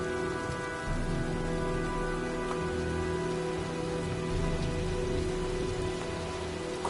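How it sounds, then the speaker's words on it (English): Rain and storm ambience in the video game Heavy Rain: steady rainfall pattering on surfaces with a low rumbling undertone, continuous and moderately quiet throughout. "Well, looks like a storm's coming."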